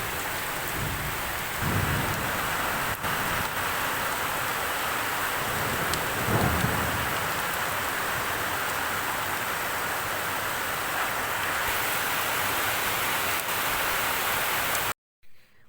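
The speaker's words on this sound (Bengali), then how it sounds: "প্রচুর পরিমাণে বৃষ্টির পরিমাণটা বেড়ে গেছে।" Heavy, unbroken daytime rain pours down outside in a thick, constant roar, with a couple of dull rumbles swelling under the downpour before it cuts off abruptly at the end.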